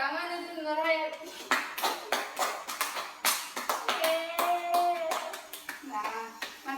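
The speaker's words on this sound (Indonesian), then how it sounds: "Pradita, tepuk tangan untuk Nurhayati." A small group, apparently in a classroom, claps hands in a quick run of sharp, uneven claps that rise and fade in bursts, with children's voices heard between them.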